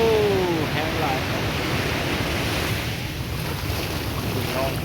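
Sea waves wash continuously onto the beach at Nha Trang, a broad rushing surf mixed with buffeting wind noise on the microphone, with a brief faint tone near the start.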